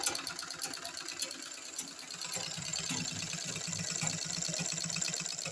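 A sewing machine runs under foot-pedal control, its motor whirring steadily with a rapid needle rhythm that quickens slightly, fairly faint and close with no voices.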